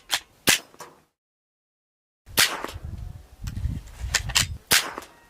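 .22 rifle shots are fired at Christmas ornament targets outdoors, giving several sharp, close cracks spaced irregularly, with a gap of silence early on and low rumbling handling noise between the later shots.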